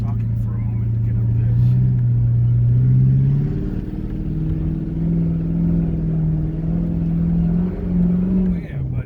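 A 2008 Ford Crown Victoria Police Interceptor built as a Mad Max car revs and bogs its way up a muddy hill. The engine drones low and loud and steady, its pitch climbing and sagging as it strains.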